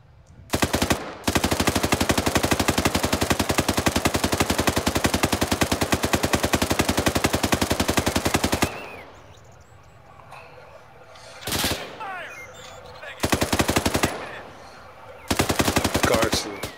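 Loud, close machine gun fire in a military combat video game on the Altis map: a long sustained burst of rapid shots, then a pause and several shorter bursts, with faint voices between them.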